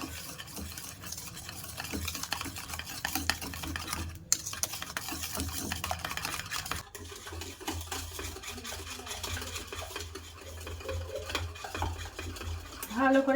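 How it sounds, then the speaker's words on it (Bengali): A hand whisk beats sugar into an Oreo cake batter in a bowl, giving a steady, continuous churning and scraping texture that runs throughout at moderate loudness, with a few brief knocks near the end. "এবার আমি একটা হ্যান্ড উইক্স নিয়েছি, ওই দিয়ে এবার গুলিয়ে নেব ভালো করে।"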